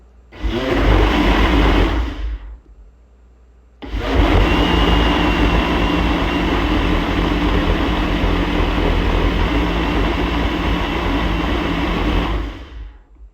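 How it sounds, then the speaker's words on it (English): A loud blender whirs for a couple of seconds, stops briefly, then roars again steadily for a long stretch before cutting off. "you will literally make the kids wake up when they hear the blender going"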